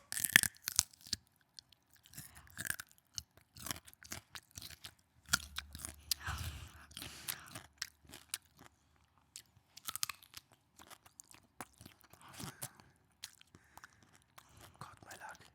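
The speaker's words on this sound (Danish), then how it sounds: "Malak, du får lov altså til at spise noget agurk." A child bites into and chews cucumber close to the microphone, with scattered crisp crunches and soft mastication at low level, interrupted by quiet whispering and talk.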